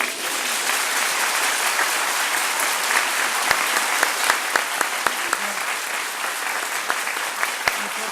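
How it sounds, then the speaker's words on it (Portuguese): Audience applause at a Canção Nova celebration in Portugal, a dense sustained round of clapping from a crowd with a few sharper individual claps standing out, lasting the whole stretch. "o nosso aplauso?"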